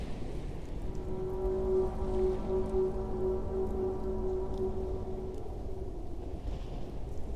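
Steady rain falls across the whole stretch, a dense even hiss of drops hitting a surface, with no clear thunderclap standing out and no voices.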